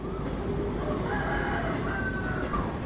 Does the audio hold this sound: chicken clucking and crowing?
yes